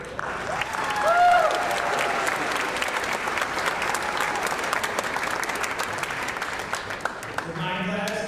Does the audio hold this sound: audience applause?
yes